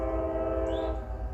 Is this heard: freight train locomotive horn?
yes